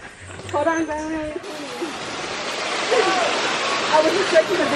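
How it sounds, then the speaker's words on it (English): Steady broadband rushing of a waterfall in Puerto Rico fills the clip, with a person's voice speaking briefly over it at the start. "Maybe that's the waterfall"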